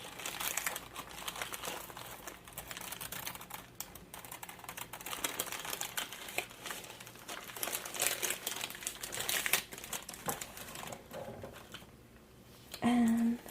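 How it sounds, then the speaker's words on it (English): Crinkly, scratchy plastic bags are handled up close in a kitchen, giving a dense, continuous run of loud crackling and rustling that ends with a brief tone. "But I love these bags because they're crinkly"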